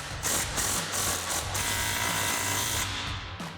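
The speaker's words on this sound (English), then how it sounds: "We're gonna take our impact and 15mm socket and tighten down our first clamp." Impact wrench with a 15mm socket tightening an exhaust clamp on a RAM 2500, giving short bursts of whirring and rattling hammering, close and moderately loud, with brief pauses between pulls.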